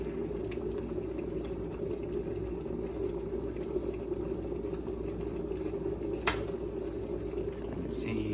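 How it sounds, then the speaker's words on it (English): An electric kettle brings water to a rolling boil, a steady bubbling rumble that stays constant throughout, with a sharp click near the end. "looks like we're boiling."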